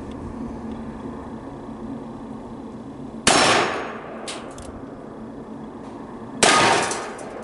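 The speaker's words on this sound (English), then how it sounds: "Shoot us a little bit of steel with this thing." Two loud, sharp gunshots from a Charter Arms Target Bulldog .44 Special revolver fired at steel targets, each crack followed by a short ring from the steel, about three seconds apart with no talk.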